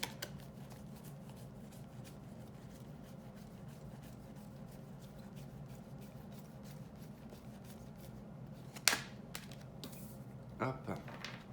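Lenormand oracle cards being shuffled for a reading, a faint steady papery rustle with a few sharper flicks and taps near the end.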